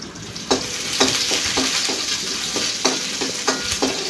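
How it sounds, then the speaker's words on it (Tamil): Onions frying in a pan, a steady loud sizzle broken by repeated scraping strokes of a spoon or spatula as they are stirred, close up with no voices. "வெங்காயம் போட்டு கொஞ்சம் லைட்டாக வதக்கினதுக்கப்புறம் வதக்கி விடணும்"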